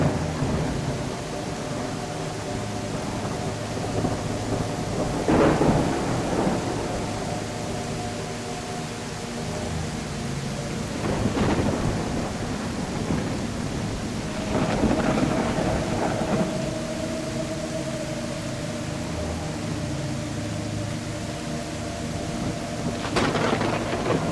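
A thunderstorm in the video game The Seven Enchantments: steady rain hiss with several deep rolling thunder rumbles spaced a few seconds apart, loud and alone.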